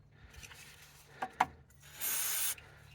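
A can of fast rust loosener cold shock spray lets out one steady hiss lasting about half a second, after a couple of brief clicks from handling the nozzle, close up and with no talk.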